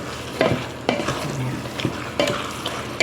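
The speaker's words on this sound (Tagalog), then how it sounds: "Haluin muna natin para hindi siya dumikit guys ang ating chicken." Chicken being stirred in a frying pan over a soft sizzle, a few distinct scraping and knocking strokes of the utensil against the pan, close by with no talking.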